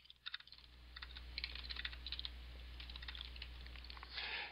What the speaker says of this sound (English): I'm just hitting tab now between cells.